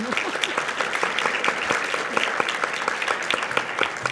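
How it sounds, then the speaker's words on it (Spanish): Audience applause at a book fair panel on language and ancestral American herbs and stimulants: brisk, dense clapping from a seated crowd, close and steady throughout with crisp individual claps standing out, no talk over it. "Démosle por favor un aplauso."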